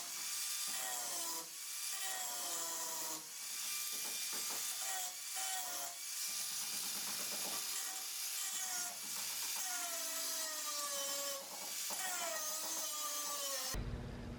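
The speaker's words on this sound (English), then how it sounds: "I'm gonna have to cut right in the middle, right here while it's lined up." A saw cuts through a car's chassis metal in a garage, producing a loud, sustained grinding whine with rising and falling pitch sweeps and brief breaks between strokes, close up and without talk.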